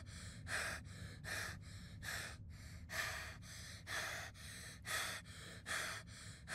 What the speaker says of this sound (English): This kid is breathing for me.